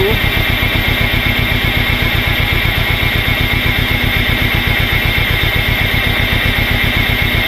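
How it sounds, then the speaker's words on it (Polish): A tractor engine turning at low revs while powering a hydraulic log splitter, a steady, rapid chugging pulse that stays loud and close for the whole stretch. "za małe obroty ciągnika"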